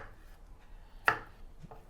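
A knife chopping small shallots gives one sharp, close cut on the board, with a softer tap after it, against a quiet background.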